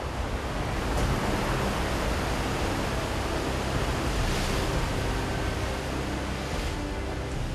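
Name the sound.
rough sea waves surging under cloudy sky, Indonesia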